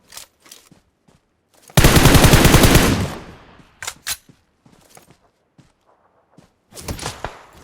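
Rapid automatic gunfire from the mobile battle royale game PUBG Mobile, a loud sustained burst of about a second followed by scattered single shots and footsteps, with another short burst near the end.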